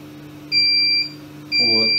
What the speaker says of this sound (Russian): вот, пищит